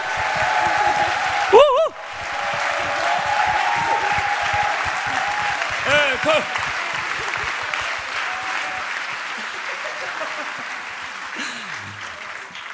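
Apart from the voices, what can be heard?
audience applause encouraging middle and high school students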